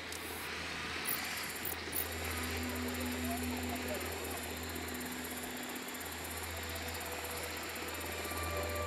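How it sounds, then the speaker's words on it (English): A helicopter approaches in the video game Ghost Recon, heard as a steady low rotor drone and hum held under constant background noise throughout, without clear speech. "Chopper's approaching."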